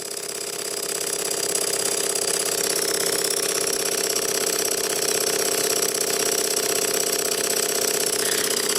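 A Cotswold Heritage Cirrus beam engine running in steam, fed by a Stuart 501 boiler, gives a steady, loud mechanical chug with a continuous rattling drone and fast repetitive clatter, close by and unbroken throughout.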